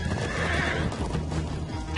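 Horses in the video game Minecraft: Story Mode whinny over the clatter of moving hooves, a loud, close mix that holds steady through the moment.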